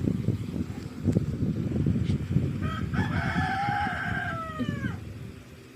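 A rooster crows once, a loud drawn-out call rising and trailing off, over a constant low rumble of background noise.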